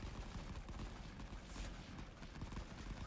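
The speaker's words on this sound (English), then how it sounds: "This guy with a machine gunner is just firing away." Machine gun fire in a World War I trench battle in Rising Front, a dense, continuous rattle of distant shots blending into a steady battlefield din.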